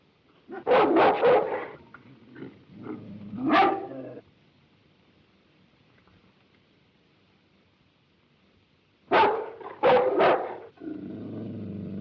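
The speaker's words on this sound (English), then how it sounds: "right, put your dog out." A dog barks in loud, close bursts, a quick cluster of barks followed by a pause, then another rapid cluster of several barks and a lower grumbling sound, with near silence between.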